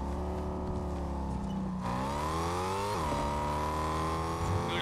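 A G-Wagon driving in a video game, a loud continuous engine hum that climbs in pitch, drops sharply at a gear change, then rises again under steady throttle, with no voices.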